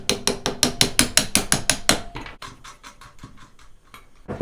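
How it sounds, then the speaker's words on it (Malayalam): A screw is driven and tightened into a metal stool frame with a ratcheting tool, giving about a dozen fast, evenly spaced ratchet clicks up close, then slower, lighter clicks and handling. "നമ്മളിതിലൊരു സ്ക്രൂ ഇട്ടിട്ട് അങ്ങോട്ട് ടൈറ്റ് ചെയ്ത് കൊടുക്കണം"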